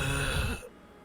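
A voice imitates shallow, zombie-like breathing with a short raspy exhale, quiet and close, trailing off after about half a second.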